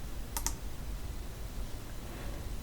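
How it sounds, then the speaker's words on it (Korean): Two quick, light computer mouse clicks land close together near the start, then only faint room hiss remains. "클릭하고요."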